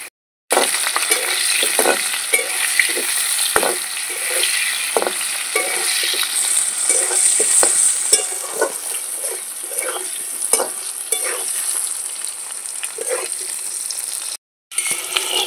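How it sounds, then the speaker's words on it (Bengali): Potatoes frying until browned in a pan, a continuous loud sizzle broken by repeated scraping and tapping strokes from a stirring utensil, with a brief silent gap near the end. "আলুগুলো লাল করে ভাজা হয়ে গেছে"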